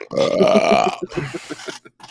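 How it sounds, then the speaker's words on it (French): One loud, close burp rumbles for about a second, then trails off into a few softer gurgling sounds. "les rots à la fin de même"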